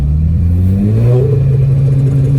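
A car engine revving near the microphone, a loud steady drone whose pitch climbs and holds as the revs rise, with no talk over it.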